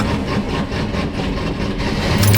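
An old Chevy's stock 5.7-liter 350 V8 runs with a loud, steady engine drone and a slightly pulsing rhythm, close to the listener, with no talking.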